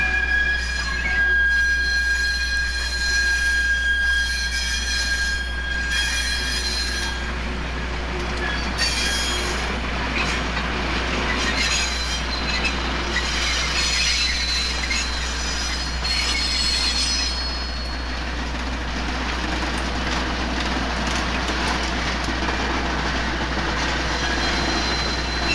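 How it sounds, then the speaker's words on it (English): Conrail coal train wheels squealing on rusty rail: sustained high-pitched metallic squeals layered over a steady low rumble of passing rail cars, loud and close for the whole stretch. "Nice squeal with the wheels on rusty rail."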